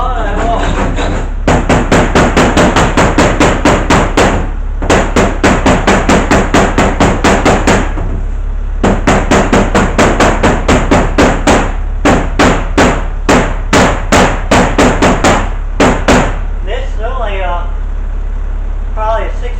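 A 16 to 18 ounce hammer taps surface rust off the metal floor of a 1996 bus, rapid sharp metallic strikes in long bursts with short pauses, close and loud, followed by brief talk at the end.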